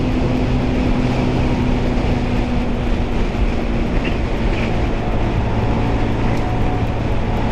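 A Bajaj Pulsar 220F motorcycle ridden fast at over 100 km/h on an open road, a loud, steady engine roar with a constant drone and heavy rushing wind, continuous for the whole stretch with no talk.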